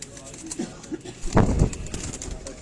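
Pigeons on a rooftop loft give soft, low coos in short bursts, with one fuller coo near the middle, against quiet outdoor background.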